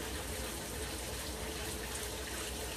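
Water runs steadily from a tap or shower while hair is wetted for shampooing, a continuous soft hiss heard close and unbroken without voices.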